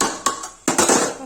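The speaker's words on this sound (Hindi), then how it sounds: "इसको अब ढक देंगे" A metal lid clanks twice onto a cooking pot of mutton rogan josh, two bright close knocks with a ringing clatter after each, loud and without talking.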